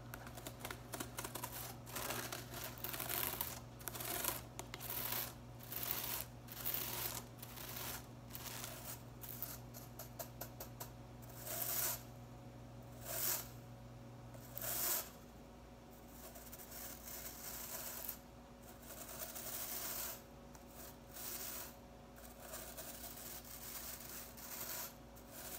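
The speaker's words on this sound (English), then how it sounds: "Because they are bunched together, you can kind of hear how my fingernail bounces along there." A fingernail flicks and rubs along bunched broom bristles, close ASMR-style, producing rapid crisp ticking and scratchy bursts in uneven runs with short pauses, steady in level throughout and without speech.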